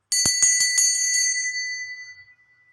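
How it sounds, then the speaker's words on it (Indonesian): A bright metallic bell rings several times in quick succession at the start, then its tone lingers and fades away slowly, close and clear. "kita akan melanjutkan dengan ditandai lonceng berbunyi"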